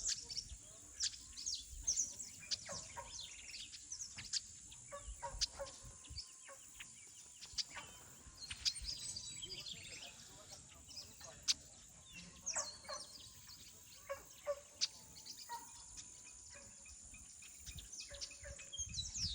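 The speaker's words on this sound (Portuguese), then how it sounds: "Pássaro aqui, ó, cantando bem pertinho de mim" Birds sing in open countryside beside a fishing spot: scattered, quiet chirps and calls recur at an irregular pace against a faint, continuous high whine.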